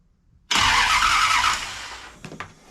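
A motorhome 440 engine fitted in a 1968 Dodge Charger cranks with a loud, sudden burst that holds for about a second and a half, then fades into a few sharp clicks.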